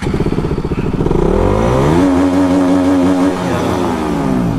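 A KTM RC 200 motorcycle engine revving hard up to its rev limiter, a loud close buzzing roar that climbs in pitch, then holds bouncing against the limiter before easing off slightly.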